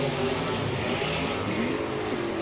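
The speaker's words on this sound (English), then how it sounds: "that car in the right lane's loud, Drakeford just rolls through the burnout bo" A loud, roaring drag racing car engine drones steadily throughout, thick and continuous with a rumbling low end and no pauses.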